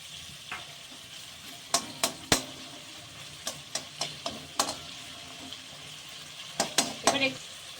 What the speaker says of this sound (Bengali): এই দেখুন একটুখানি জল দিলাম মটরশুটিটা সেদ্ধ হয়ে যাবে